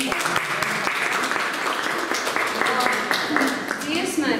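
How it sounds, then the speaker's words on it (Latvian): An audience at a concert of Latvian and Swedish storytellers in Kuldīga gives sustained, fairly close applause, with a voice speaking over the clapping. "tā kā noteikti aplausi Edgaram"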